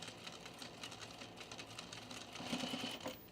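A sewing machine stitching over a seam on a V-neck coat, rapid even needle chatter close and quiet, briefly intensifying near the end.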